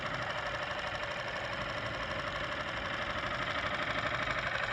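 A Nissan 6 HP outboard engine runs steadily at idle after a pull-cord start, a continuous mid-pitched mechanical drone with a faint knocking rhythm and no gaps throughout.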